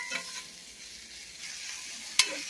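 Meat with taco seasoning frying in a pan for a burrito, giving a faint, steady sizzle with light stirring and a brief sharp clink near the end.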